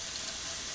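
Shrimp and vegetables sizzle in a hot pan, a steady close hiss of frying that runs unbroken with no talk.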